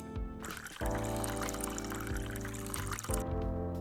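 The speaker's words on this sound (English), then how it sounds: "grab the pot and pour the water in the coffee machine" Water pours steadily into a coffee machine in a cafe video game, a continuous splashing stream under game music, starting and stopping cleanly.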